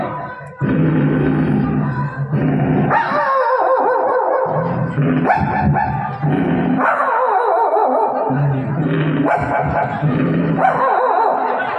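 At a village comedy show in Arakeri, a human voice imitates a dog, barking, yelping and howling loudly and continuously in quick, varied bursts.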